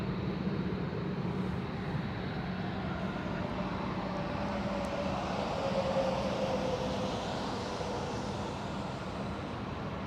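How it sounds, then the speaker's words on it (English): A jet airliner departs from runway 36 Center at Schiphol airport in December, heard as a steady, broad rumbling roar from some distance that swells slightly and holds throughout, with no talk over it. "we can even see the departures on runway 36 center"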